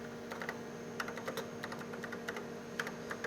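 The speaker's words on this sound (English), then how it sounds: "So I'll type in this in the command, and then I will execute it." Keys clacking on a computer keyboard as a command is entered for a PUMA robot arm program, a steady run of close, crisp taps with short pauses over a constant electrical hum, no talking.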